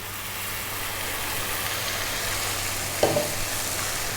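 Spices fry with a steady sizzle in a pan as coconut milk goes in and gets stirred, with a brief scrape or splash near the end and no voices.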